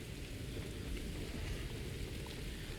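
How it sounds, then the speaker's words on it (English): Steady rain falling in the factory-building video game Satisfactory, a dense, even hiss of downpour with no breaks, heard alone without talk. "It's raining."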